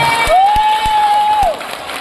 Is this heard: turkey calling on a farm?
no